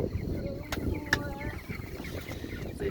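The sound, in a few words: meat chickens clucking in chicken tractor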